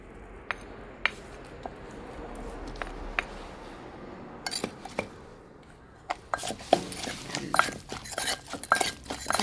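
Soup with eggplant and shallots being stirred in a pot, giving light clinks and scrapes of a utensil against the pot that grow busier and more clustered toward the end, close by with no talk.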